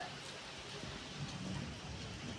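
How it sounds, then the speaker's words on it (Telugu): Heavy rain falling outside makes a steady, faint, diffuse hiss with no distinct drops, heard from indoors for a couple of seconds. "ఏదో వర్షం పడుతుంది బయట ఫుల్గా పడుతుంది వర్షం"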